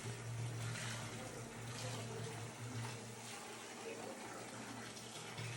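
Steady, fairly quiet rush of water flowing from a Toto mixer faucet supplied by a Paloma gas water heater, running continuously with a low hum underneath and no talking.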